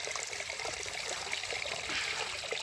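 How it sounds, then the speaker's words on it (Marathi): Water falls and trickles over stones in a rocky stream, a steady broadband splashing wash that holds evenly throughout, close and moderately loud, with no voices. "हे पाणी पडतं"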